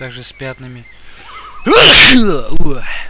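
A man's single loud, close sneeze bursts out right after a short stretch of his calm talk, followed by a brief sniff and a few more words.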